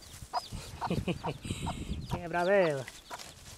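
A small hen with ten chicks clucks in short bursts close by, and one high, drawn-out call rises near the end, mixed in with a person talking.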